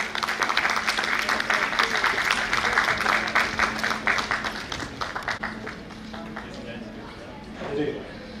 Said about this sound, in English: Give a big round of applause for him, please.